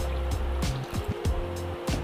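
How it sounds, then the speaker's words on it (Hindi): Cold water is poured into a vessel over freshly churned cream butter, making a continuous splashing, gurgling pour with rhythmic sloshes as the liquid moves, close and fairly loud, with no talking. "अब मैं इसमें डालूँगी फिर से ठंडा पानी।"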